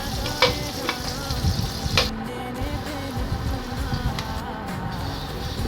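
A spatula stirs a spice tempering with turmeric and a ground paste in a hot pan for fish curry, producing continuous sizzling and scraping with a few sharp ticks against the metal.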